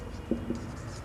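Marker or chalk writing on a board during a grammar lesson on narration, two short faint strokes in a quiet room.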